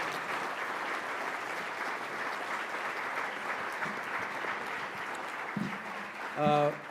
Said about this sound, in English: So how about another round of applause for Governor Mike DeWine